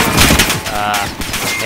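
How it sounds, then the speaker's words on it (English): Machine gun fire in the Call of Duty: Modern Warfare video game, loud rapid bursts that fill the whole stretch, with game sounds mixed in. "This looks like that's a machine gun or something."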